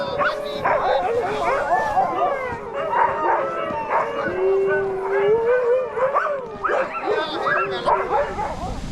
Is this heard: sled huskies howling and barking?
yes